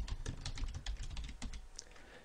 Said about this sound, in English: key in your first line of text